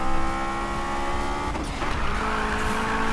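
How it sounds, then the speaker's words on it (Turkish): A Honda S2000 engine in a Need for Speed racing video game roars steadily at high revs, with a brief tire squeal midway; loud and continuous with no voices. "Sesi çok çok hoş oldu arabanın ya."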